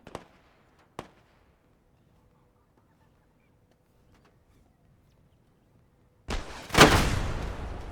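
Arma 3 gunfire arrives as two sharp distant shots early on, followed after a quiet stretch by a loud, close burst of fire that rings out and decays.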